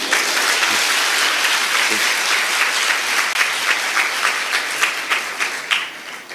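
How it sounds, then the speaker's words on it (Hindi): Audience at a devotional question-and-answer session breaks into loud, dense clapping that holds steady, then thins into scattered individual claps toward the end. "जब इस पर बेटर ताली बज सकती थी।"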